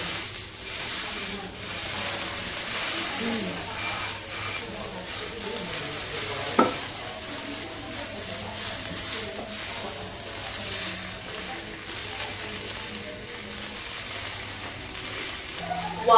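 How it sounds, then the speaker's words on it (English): Beef gyukatsu cooking on a hot surface at a sushi restaurant, a soft continuous sizzle running under restaurant background noise, with a brief clink midway. "What we're gonna do right now is actually to cook the gyukatsu"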